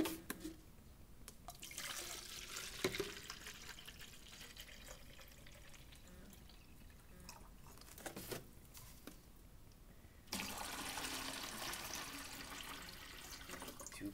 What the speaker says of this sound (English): I'm going to pour my quarts in.